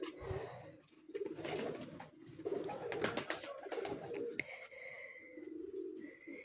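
Racing pigeons on a rooftop in Punjab coo in soft, repeated, close calls, with light fluttering and bird chatter around them.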